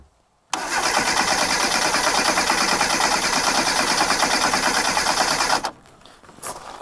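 A 1998 Reliant Robin's engine cranks on the starter in one loud, steady, unbroken run lasting about five seconds, then cuts off abruptly without catching.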